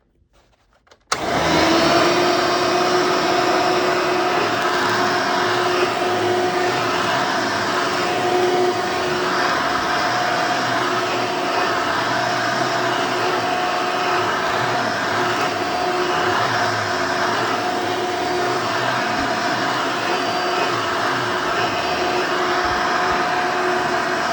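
A 1990s vacuum cleaner switches on after a moment of quiet and runs steadily with a loud, constant whining roar, close by.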